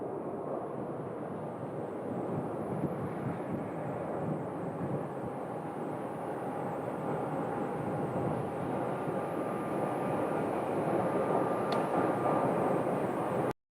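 CRJ 700 regional jet being pushed back from a gate for departure at Phoenix Sky Harbor Airport, a steady low engine roar and whine heard from a distance, continuous and even with no speech.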